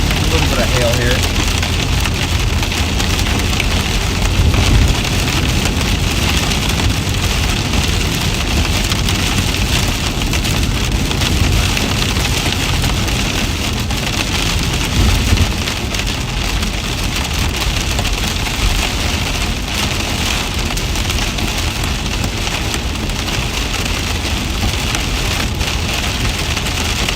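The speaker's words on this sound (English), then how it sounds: "A little bit of hail here." Hail and heavy rain pound steadily on a vehicle during a storm chase near Manhattan, Kansas, a loud, dense, unbroken roar of impacts with occasional stronger hits and a voice talking underneath.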